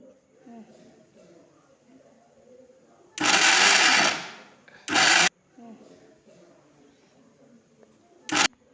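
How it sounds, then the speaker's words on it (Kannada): A mixer grinder blending spinach whirs loudly in a long burst, then a short second pulse and a brief final blip, with quiet talk in the gaps. "ಪಾಲಕ್ನ ಮಿಕ್ಸಿಯಲ್ಲಿ ಹಾಕಿ ಮಿಕ್ಸ್ ಮಾಡ್ಕೋಬೇಕು"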